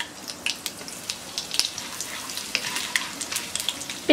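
Bay leaf, mustard seeds and asafoetida sizzle in hot oil, a steady close crackle with scattered sharp pops from the seeds.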